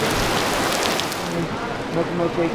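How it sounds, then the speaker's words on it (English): Heavy tropical rain pours down in Lamu, Kenya, a dense, loud hiss of drops drumming on surfaces that holds steady throughout, with faint tonal sounds in the background. "it is downpouring right now, so we're just waiting out the rain"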